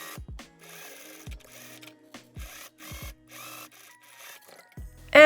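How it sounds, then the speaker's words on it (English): Sewing machine stitching a dirndl seam from a notch down to the waistline, in several short, moderately loud bursts separated by brief pauses, with handling clicks between runs. "I'm gonna sew from that notch all the way down to the waistline."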